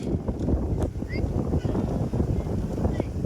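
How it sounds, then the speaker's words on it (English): Steady, heavy wind buffeting the microphone outdoors, a constant low rumble throughout with faint voices underneath. "I know it's super windy"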